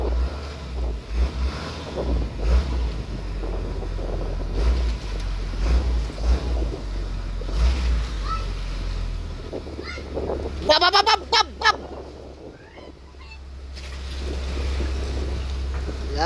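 Low steady engine rumble of a motorized bangka boat with fresh oil, with wind buffeting the microphone; a voice briefly calls out short syllables partway through before the engine continues.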